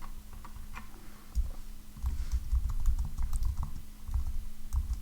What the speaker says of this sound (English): So I'll go down here and type over roses are red.